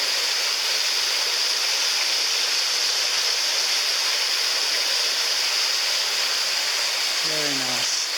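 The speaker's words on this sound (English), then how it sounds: "There's a waterfall right there." A waterfall in a gorge along the Gibb River Road sends up a constant, full-bodied rush of falling water, loud and unbroken, with a brief voice near the end.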